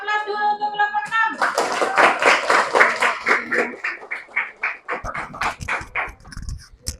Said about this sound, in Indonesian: Kita beri aplaus dulu untuk kelompok 6.